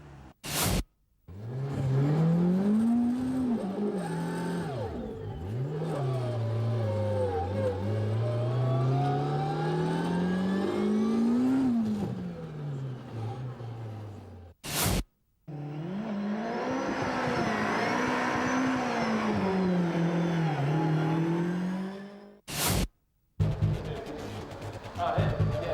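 Drag racing car on semi-slicks accelerating hard, its engine rising in pitch through several gears over a long run, with sharp cuts between passes and a voice talking over part of it.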